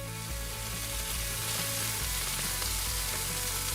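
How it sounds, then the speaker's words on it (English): Chicken pieces sear in hot oil in a cast iron skillet with a steady, dense sizzle and frying crackle, close and continuous throughout, with no talking. "you're gonna saute this for about 4 minutes until you get a nice sear on the chicken"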